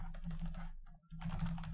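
Typing on a computer keyboard while entering names into a Google Sheets spreadsheet: a steady run of close key clicks, a brief pause near the middle, then another burst of rapid keystrokes.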